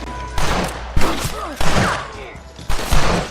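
Gunfire in the western video game Red Dead Redemption, loud close shots in several bursts with short pauses between, mixed with game sound and a few brief vocal sounds.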